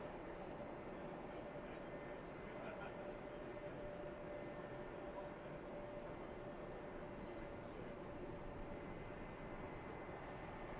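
Airbus A380 airliner taxiing at Manchester Airport, a faint, distant and steady engine drone with a thin sustained whine, continuous throughout under low background noise.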